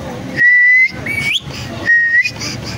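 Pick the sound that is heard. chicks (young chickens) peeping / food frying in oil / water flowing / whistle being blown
whistle being blown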